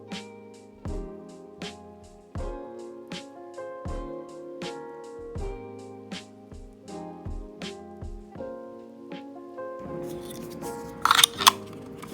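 A Logitech G Pro X Superlight 2 mouse has its old feet pried off, heard as a series of sharp plastic clicks and snaps at a steady, uneven pace, ending in a denser burst of scraping crackles, close up and without speech.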